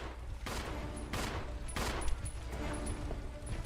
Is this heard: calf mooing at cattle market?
no